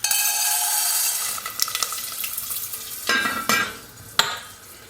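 Popcorn kernels are poured into a hot pot on the stovetop, setting off a sudden rushing sizzle followed by a few sharp scrapes and clatters as they are stirred, close and alone.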